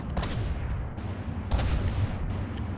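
Explosions in an airship battle in the From the Depths video game, a couple of heavy booms landing near the start and around the middle over a dense, rumbling backdrop of continuous fire.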